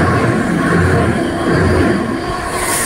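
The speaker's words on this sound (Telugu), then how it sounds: "అది వచ్చేసి రైల్ గ్రైండింగ్ మిషన్ అండి, అదేనండి ట్రాక్స్ని అయితే గ్రైండింగ్ చేస్తాయండి" A rail grinding machine runs past on the adjacent track, heard from aboard a moving express train as a loud, steady rumbling roar with continuous broadband noise throughout.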